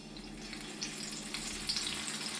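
Turon with langka sizzles in hot oil, a steady close frying crackle with small pops, no one speaking.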